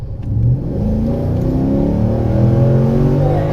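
A warmed-up car engine revs and accelerates while cruising off, a loud, close, steady mid-pitched drone with rising tone that holds for several seconds without speech.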